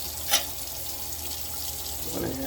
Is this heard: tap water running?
yes